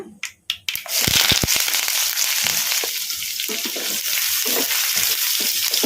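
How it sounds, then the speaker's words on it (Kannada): Chopped onions and curry leaves frying in a pan on high flame after cumin has crackled, a loud steady sizzle following a few sharp spattering pops at the start. "ಉಳ್ಳಾಗಡ್ಡಿನ ಹೈ ಫ್ಲೇಮಲ್ಲಿ ಒಂದು ನಿಮಿಷ ಫ್ರೈ ಮಾಡ್ಕೊಂಬಿಡೋಣ"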